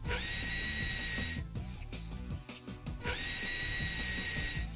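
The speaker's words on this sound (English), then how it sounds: "Drill the holes as required for mounting the actuator." A power drill runs at a steady high whine boring mounting holes in a window frame, stops for a moment of rattling handling noise, then revs up and drills again.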